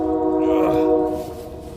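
Train passing close to a lake shore, its horn sounding as a sustained, loud, tonal blast that swells and then fades, heard alone without voices.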